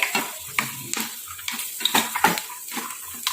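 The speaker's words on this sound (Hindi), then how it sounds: "मूंगफली के दाने भी अच्छे से फ्राई हो गए हैं" Peanuts sizzle and crackle in hot oil while being stirred, with repeated scraping strokes against the pan, close and fairly loud.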